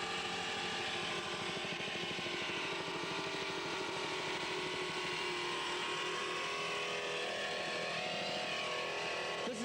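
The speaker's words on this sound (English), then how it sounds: "the engines are sounding fantastic" Racing powerboat engines roar at the 1981 Lobster Shanty race on Toms River, New Jersey: a loud, steady, close engine drone that holds for the whole stretch with no pauses.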